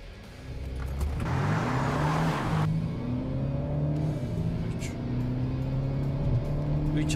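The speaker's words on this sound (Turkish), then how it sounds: "Gazı döşemeye yapıştıracağım." A car accelerating hard at full throttle on a closed area, with 500 Nm of torque: a steady, loud engine drone with rising harmonic sweeps as it climbs through the revs, plus a brief burst of wind or road rush early on.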